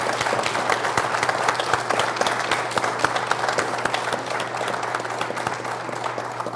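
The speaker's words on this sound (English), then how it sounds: "Can we give this panel a round of applause?" A crowd at a LeMieux Center for Public Policy event applauds a panel with steady, dense clapping that fills the whole stretch, fairly close and even in loudness, with a faint hum beneath.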